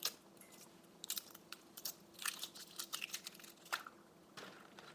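Someone bites into and chews a freshly boiled hard-boiled egg close up, giving a run of soft, moist crunches and mouth sounds in irregular bursts over a quiet room.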